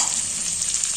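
Egg and chicken biryani ingredients fry in oil in a pan with a steady, close hiss of sizzling and faint stirring throughout, no voices.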